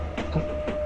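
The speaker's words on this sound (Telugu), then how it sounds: "ఈ ట్రైన్ వెళ్తూనే ఉండాలి, ఆకూడదు." A train rolls along the rails with a steady low rumble and a couple of soft rhythmic clacks, heard alone at a moderate distance.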